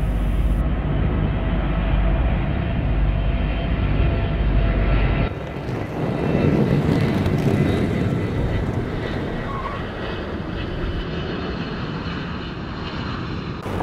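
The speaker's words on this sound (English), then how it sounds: "Endeavour rolling out on runway 15 at the Kennedy Space Center." Space Shuttle Endeavour touches down and rolls out on runway 15 at Kennedy Space Center, a loud continuous rushing roar that shifts in tone midway, then settles into a steady, slightly fading rumble.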